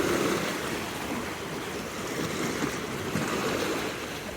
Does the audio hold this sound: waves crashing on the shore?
yes